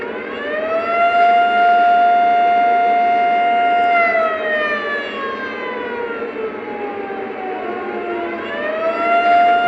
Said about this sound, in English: the air raid siren has made a comeback in the Donald Trump locomotive